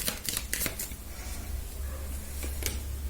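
Tarot cards being shuffled by hand, a quick run of crisp riffling flicks and snaps close up, with a steady low hum underneath and no talking.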